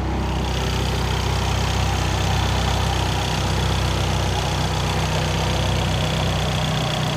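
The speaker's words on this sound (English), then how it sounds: "There's that Ecotec engine." A 2008 Chevy HHR's Ecotec engine idles smoothly and steadily up close, a constant even hum with no speech over it.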